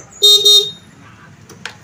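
Horn of a secondhand motorbike at a used-bike showroom sounds in two loud, closely spaced honks, close by, followed by quiet background.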